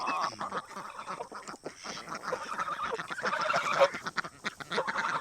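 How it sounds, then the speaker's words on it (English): Ducks quacking and honking in a farmyard flock, including black drakes with curly tails, a steady close chorus of overlapping calls running throughout. "Now, if you watch these ducks here, the males are the 2 black ones with the curly tails"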